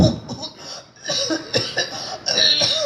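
Several rough coughs in quick succession, close and fairly loud, with a little throat noise between bursts.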